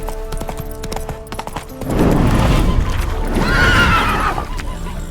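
Hooves clop steadily while a horse lets out a loud, drawn-out whinny in the second half, set over a busy soundscape in The Witcher 3: Hearts of Stone.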